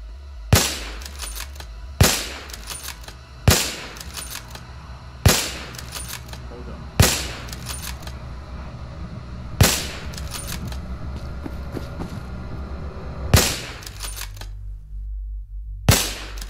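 Single gunshots in Fallout 4, about eight sharp, loud reports spaced roughly one to three seconds apart over a low background rumble, with a near-silent pause before the final shot.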